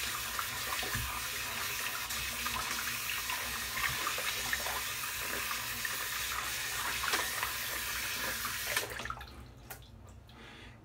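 Hands rinsed under a running tap, a steady close hiss of flowing water that stops near the end, leaving a quieter background.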